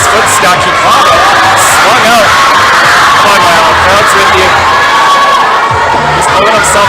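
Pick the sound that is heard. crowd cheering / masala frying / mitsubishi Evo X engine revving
crowd cheering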